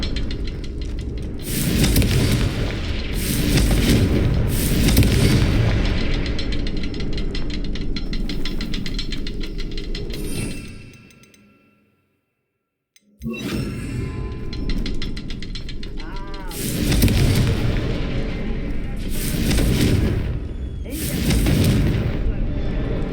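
Repeated booming spell blasts from Confringo in Hogwarts Legacy, loud and rolling over continuous game noise, with a short total silence midway before the explosions resume.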